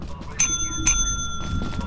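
A bicycle bell is rung twice in quick succession with bright metallic tones, followed by softer faint dings, while people talk close by in a noisy room.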